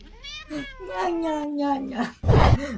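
A cat meows in a drawn-out, wavering call that rises and falls, followed by a shorter, harsher cry, close and clear with little else around it.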